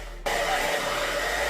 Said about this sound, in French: Vous prenez votre sèche-cheveux